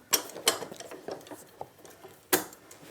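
Woodworking vise being tightened, a series of sharp metallic clicks and clanks at irregular intervals, close and crisp, with quiet gaps between the knocks and no talking.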